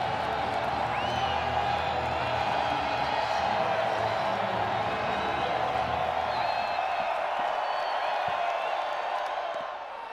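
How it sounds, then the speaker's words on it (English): A sellout college baseball crowd in Fayetteville rises and cheers, a dense, sustained roar that stays loud for the whole stretch and eases slightly at the end. "His sellout crowd comes to its feet in Fayetteville."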